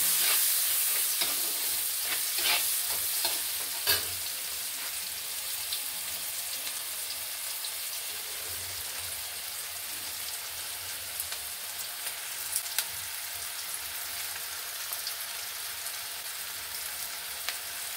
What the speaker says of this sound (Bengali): দেখুন আমার পেঁয়াজটা আমার লাল লাল করে ভাজা হয়ে গেছে